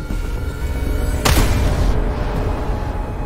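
A single sniper rifle shot in a video game cracks loud and sudden over a dense, rumbling battlefield backdrop, with a brief echoing tail.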